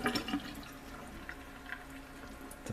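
Water carrying floating asparagus berry pulp is poured off the sunken seeds in a container, giving a soft, steady trickling and splashing at low volume.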